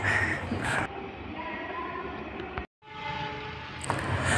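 An Indonesian Lodaya new generation passenger train with a power car rolls past close by. There is a continuous rumble with tonal hum, and horn-like tones sound at the start and end, broken by a brief cut in the sound.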